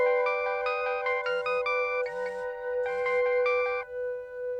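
An incoming call rings on a phone, a melodic electronic ringtone playing a repeating chime pattern clearly and alone, with no voices.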